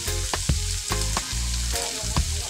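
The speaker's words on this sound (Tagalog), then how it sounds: "Haluin siya para ma-absorb yung lasa ng hipon kanina." Ginataang langka (jackfruit) with shrimp sizzling in a pan as it is stirred, a loud close sizzle broken by repeated scraping strokes of the spoon every half second or so, no voices.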